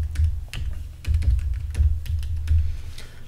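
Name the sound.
typing an email address on a computer keyboard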